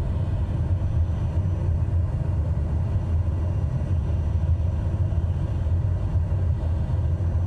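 In Microsoft Flight Simulator 2020, an aircraft engine on approach with flaps set throttles up. The result is a steady, dense low roar and rumble that fills the cockpit with no talk over it.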